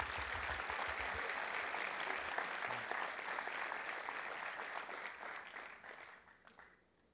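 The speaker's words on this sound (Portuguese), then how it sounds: "Dá um aplauso a Jesus." Clapping from a church congregation fills the room as a dense, fairly faint patter, then thins and fades away toward the end.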